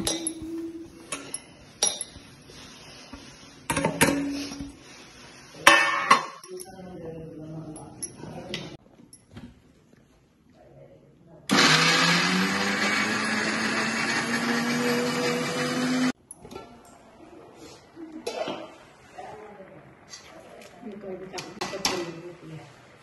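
A mixer grinder grinds chilli spice paste in a home kitchen, a loud steady whirring burst of about five seconds standing out between stretches of talk and clinking kitchen noises.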